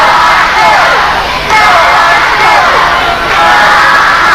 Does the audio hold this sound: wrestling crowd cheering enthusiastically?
yes